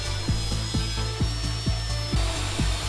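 A table saw ripping 2x4 lumber lengthwise: a steady motor hum with a rapid series of repeated rhythmic knocks, close and fairly loud.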